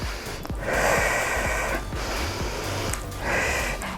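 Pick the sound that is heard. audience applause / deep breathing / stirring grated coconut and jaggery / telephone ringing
deep breathing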